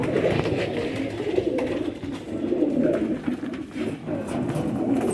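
Several Faqeer Gull pigeons coo together nearby, a steady layered murmur of soft rolling calls without any talk.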